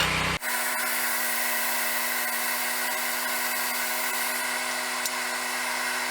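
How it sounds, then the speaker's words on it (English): Grinder shaping the clip point of a Bowie knife forged from a leaf spring, a steady high-pitched whine that starts abruptly after a brief pause and runs on evenly and fairly close, with no talking. "I'm going to grind the clip point first."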